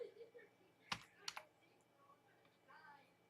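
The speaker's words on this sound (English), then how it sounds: "I'm gonna type in these things" A few quick keystrokes on a keyboard sound as sharp, close clicks in a short cluster. Faint background murmur and a thin steady hum sit beneath them.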